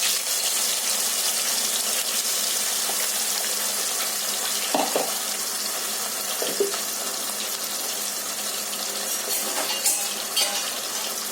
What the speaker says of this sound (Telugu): ఆయిల్ వేడయ్యాక మనము మిక్సీ పట్టుకున్న ఉల్లిపాయ, టమాటాలు ప్యూరీ వేసుకుందాము.